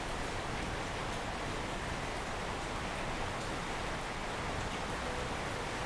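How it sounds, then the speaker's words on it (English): Steady heavy rain from Super Typhoon Uwan in Angeles City, a dense, continuous wash of falling water with no pauses, loud and even throughout, no voices. "sounds like we're getting a little bit more rain"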